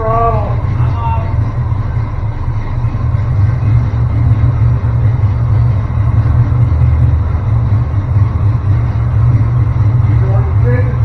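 Car engine idling steadily with a low, constant rumble close by, while a voice briefly speaks near the start.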